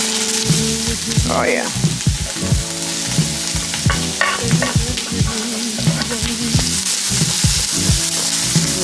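Onions frying in a hot pan give a loud, close, continuous sizzle with rhythmic stirring scrapes throughout, and a brief remark is spoken over it.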